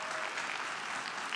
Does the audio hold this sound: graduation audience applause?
yes